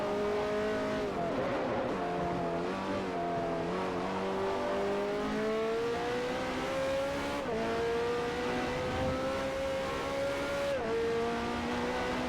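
GT race car engines howl in Forza Motorsport 4 during a multi-class GT2 event, a sustained high-revving drone that climbs through gears with brief shift dips, several cars close together and loud.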